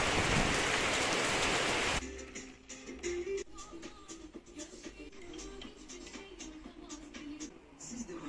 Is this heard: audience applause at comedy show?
no